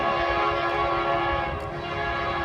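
A Norfolk Southern train approaches in Fostoria, Ohio, its horn sounding a steady, sustained blast under the rumble of the rails, moderately distant.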